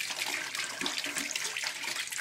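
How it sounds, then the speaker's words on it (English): Hot water pours steadily from a bathtub tap while a window AC unit's filter is rinsed clean, a continuous hissing splash held close and even throughout. "turn on the hot water"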